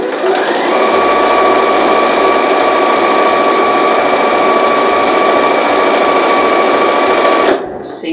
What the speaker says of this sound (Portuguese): Vou desvirar a peça, é interessante a gente manter esse retrocesso, porque eu vou forçar uma costura.